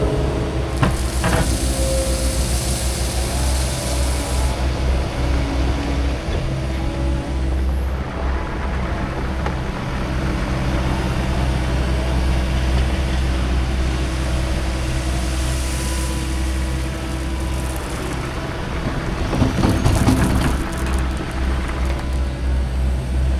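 An excavator digs dirt out from around a pipe on a pipe install site, its diesel engine roaring loud and steady, with a surge in effort near the end.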